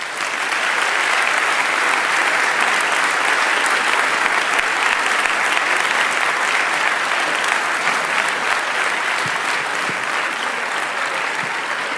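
A sustained, loud wave of audience applause welcomes a guest from an NGO onto the stage, dense and even for about twelve seconds with a faint crowd murmur underneath.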